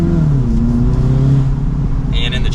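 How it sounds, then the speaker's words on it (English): A 2023 Audi TT 45 TFSI Quattro Roadster, top down and in dynamic mode, pulls through a turn with a steady, droning exhaust note. The engine tone rises gently and stays loud and close throughout. "Maybe we can hear that exhaust a little bit more as we come around this turn."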